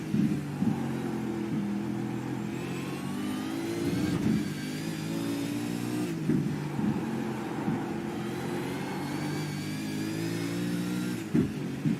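A Supercar racing engine rises and drops in pitch as it downshifts nearly to first gear into a tight 90-degree turn, loud and close with repeated revving surges.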